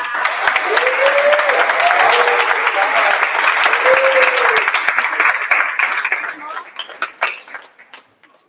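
An audience at a school board meeting claps in a steady, dense burst of applause that holds strong for several seconds, then thins out into scattered claps and fades, with voices faintly underneath.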